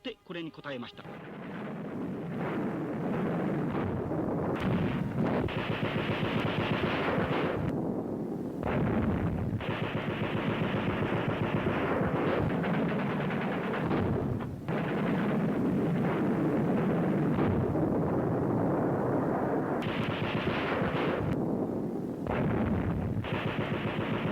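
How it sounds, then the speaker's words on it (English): Sustained, dense gunfire with heavy bursts and booming shots, loud and continuous throughout, with no pauses. "the Chinese military replied to us with gunshots."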